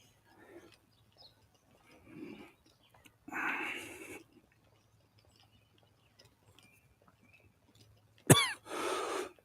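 A congested person coughs in a quiet room, giving several separate close coughs with pauses between, ending in a sharp, loud burst followed by a rougher one.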